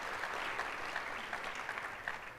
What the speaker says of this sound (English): Let's give them a big round of applause for joining us here today.